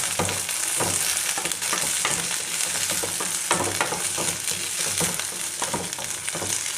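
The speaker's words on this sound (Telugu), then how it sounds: "వేసాక బాగా ఫ్రై చేయండి." Turkey berries frying in a pan, a continuous crackling sizzle with repeated scraping stirs at a steady pace, close and fairly loud throughout.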